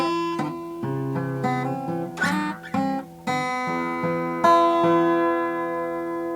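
Acoustic guitar fingerpicked notes in a steady pattern, bright plucked tones overlapping and ringing, played solo at a moderate pace.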